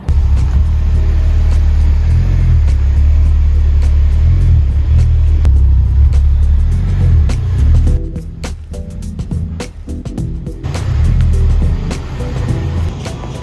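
A car engine rumbles close by at low speed, creeping forward with a steady drone that briefly drops and then picks back up.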